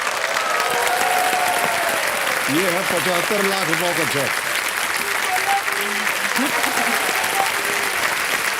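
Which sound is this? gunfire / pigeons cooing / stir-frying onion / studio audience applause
studio audience applause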